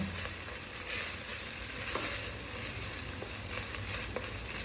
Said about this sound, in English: So keep stirring vigorously